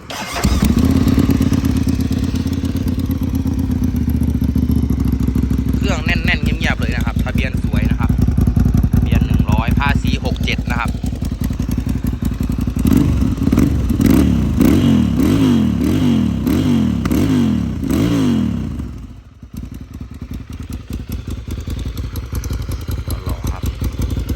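A 2012 Ducati 795 motorcycle with twin SC exhaust pipes idles with a loud, throaty rumble, then is revved repeatedly in sharp rising bursts before dropping back to idle; a voice speaks over it.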